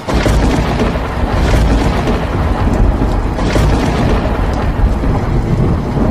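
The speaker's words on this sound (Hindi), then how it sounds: "तभी अचानक काले बादल छा जाते हैं और जोरदार बारिश शुरू हो जाती है" Heavy cartoon rain pours down constantly while thunder rumbles and booms through it, loud and unbroken from start to finish.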